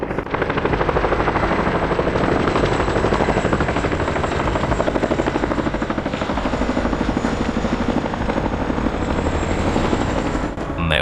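A military helicopter flown by 160th aviation regiment pilots passes very low, about 10-15 metres above the ground, its rotor chop loud, dense and continuous throughout, with no talk.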